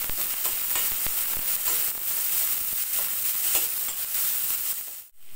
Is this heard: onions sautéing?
yes